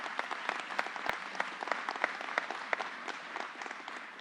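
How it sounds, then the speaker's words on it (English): Applause from a crowd at a wind farm groundbreaking ceremony, a steady, fairly distant patter of many hands clapping at once, sustained evenly with a few sharper individual claps poking through. "Let's give them a round of applause."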